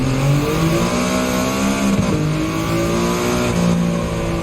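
A race car in Gran Turismo drives with a steady, loud engine drone, pitch rising and falling through gear changes and corners, continuous throughout with no talking.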